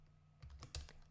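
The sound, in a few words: typing on a computer keyboard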